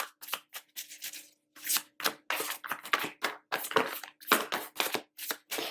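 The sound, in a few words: shuffling tarot cards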